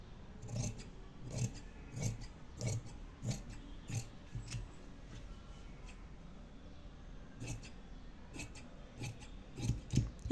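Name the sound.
scissors cutting fabric for a princess cut blouse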